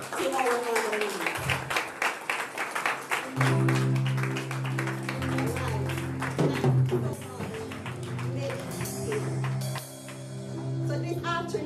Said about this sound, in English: give a rousing round of applause to our honorees